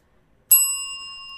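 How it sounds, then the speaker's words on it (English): A single bright bell ding rings alone: a sharp strike, then clear sustained tones that slowly fade. "Bell"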